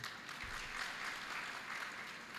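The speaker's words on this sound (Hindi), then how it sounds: "ताली मत बजाओ रे।" Audience clapping at a Hindi-language talk, a steady, dense patter of many hands heard from some distance, continuous throughout without a clear break.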